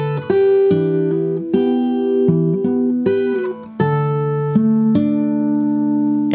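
Slow guitar run-through of the second intro section of a song, a measured sequence of plucked single notes and ringing pairs, close and unaccompanied, with no talking.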